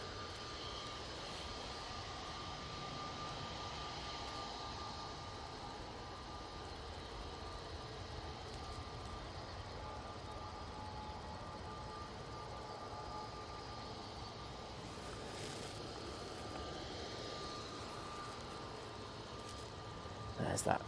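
A propeller aircraft departs Manchester Airport, a faint steady engine drone with a constant tone heard at a distance beneath low background noise.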